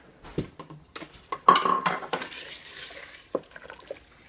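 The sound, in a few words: stirring diced potatoes and vegetables in a pot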